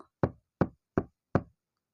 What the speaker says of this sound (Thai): เสียงเคาะประตูก็ได้ดังขึ้นอีกครั้ง